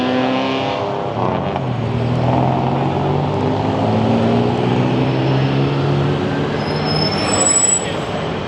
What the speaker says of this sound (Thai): มองไปทางนั้นก็จะเห็นรถไฟฟ้านะครับ วิ่งลงแบบนี้เลย